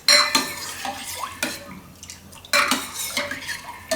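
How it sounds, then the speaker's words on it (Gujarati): A spoon stirs and scrapes inside a metal pot of heating milk for carrot kheer, giving repeated clinks and scrapes in uneven bursts, close and fairly loud, with no talking. "વચ્ચે વચ્ચે આપણે એને હલાવતા રહેવું."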